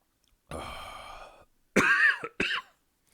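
A close, muffled rasp is followed by two short, harsh coughs, with silence before and between them.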